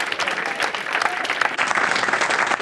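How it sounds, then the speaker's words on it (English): Wedding guests give a dense, steady round of applause for the children during a groom and best man speech, the clapping loud and sustained throughout with no talk over it. "Can we put a round of applause for Georgia and Tom, please?"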